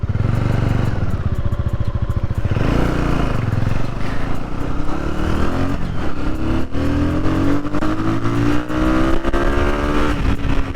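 A 1987 Honda GB 250 Clubman single-cylinder motorcycle engine revs up close, its throbbing idle rising into climbing, buzzing pitch sweeps as it pulls past about 6,000 RPM, loud and alone.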